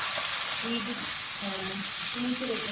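Gola kabab frying with fresh green chilies and yogurt, a loud, continuous sizzle up close with stirring scrapes and a faint voice mixed in.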